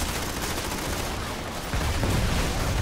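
A powerful gun fires in a free-to-play sci-fi shooting game as a dense, loud burst of gunfire that continues without a break, with a heavier surge near the end.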